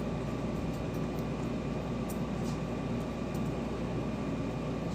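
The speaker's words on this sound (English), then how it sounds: "I have my window unit air conditioner right behind my head and it's pretty loud" Window-unit air conditioner running loudly nearby, a steady broadband whoosh and hum with a constant low drone, unchanging throughout with no talk.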